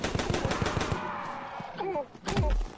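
Rapid automatic gunfire bursts in the VR shooter Crashland VR, a quick run of evenly spaced shots followed by a few sparser blasts and effects.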